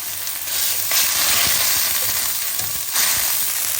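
Green chilli pieces and garlic paste fry in a hot pan, giving a loud, steady, close sizzle with a few faint stirring scrapes and no talking.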